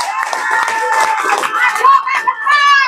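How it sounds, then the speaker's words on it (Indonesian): An audience at an Indonesian public event applauds and cheers in a steady, loud burst, with a voice carrying over the crowd noise. "Sekali lagi kita berikan tepuk tangan kepada LBHAP Muhammadiyah."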